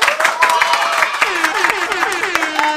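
A crowd claps and applauds, a dense run of sharp hand claps at steady volume with a tonal, whistle-like layer sweeping over it throughout.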